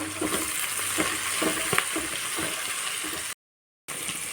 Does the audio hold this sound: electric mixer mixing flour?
no